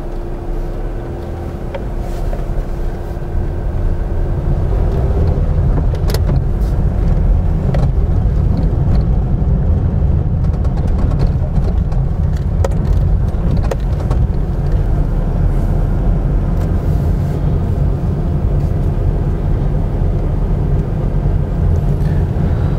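A car passing along a street in a Karachi housing development, a loud continuous engine and tyre rumble that swells slightly and stays steady for over twenty seconds.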